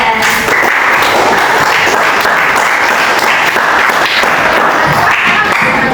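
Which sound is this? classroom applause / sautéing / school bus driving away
classroom applause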